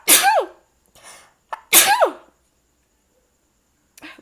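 Two loud, close sneezes about a second and a half apart, each a sharp burst that trails off, followed by a brief faint sound near the end.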